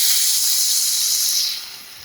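Paneer masala sizzles and hisses loudly as a spoonful of water hits the hot pan, a steady bright steamy hiss that fades toward the end.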